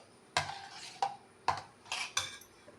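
Spoon mixing yogurt gojju in a metal vessel, five sharp clinks and scrapes in an uneven rhythm, close and clear, with no talk.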